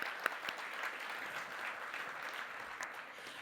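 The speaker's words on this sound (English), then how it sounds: "Let's give her another round of applause." Audience applause at an evening talk event as a speaker is welcomed to the stage: a steady, dense wash of clapping that holds at an even level throughout, with a few sharper individual claps standing out near the start.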